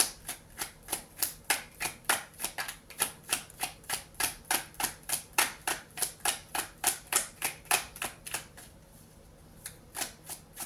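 Cards from an Isis tarot deck being shuffled and handled, a rapid, steady run of crisp flicking snaps close up for about eight seconds before stopping, with no talking.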